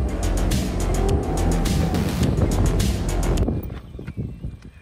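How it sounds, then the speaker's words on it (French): Car reversing and then making a U-turn, a loud engine and road rumble with wind buffeting the microphone that abruptly drops to a quieter idle near the end. "Hop, une petite marche arrière et un demi-tour, on n'en parle plus hein."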